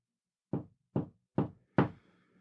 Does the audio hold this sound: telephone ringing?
no